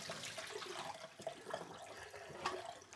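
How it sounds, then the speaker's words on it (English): Water is poured out of a film negative washer in a faint, steady splashing gush with a few brief sloshes and drips, quiet and close. "When it's done, I simply dump the water."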